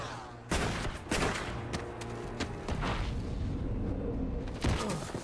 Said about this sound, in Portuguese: O som do tiro veio antes do tiro